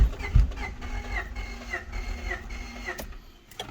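A Honda Accord CB7 engine cranking, with one cylinder starting to catch, sounds as a steady mechanical churning and whirring. Faint intermittent pops and chirps ride on top, and near the end there is a brief louder burst.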